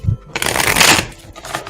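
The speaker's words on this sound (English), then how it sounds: "Get another good shuffle." A deck of tarot cards is shuffled close by in one brisk, loud burst of riffling and flicking that tapers off into a few lighter card slaps.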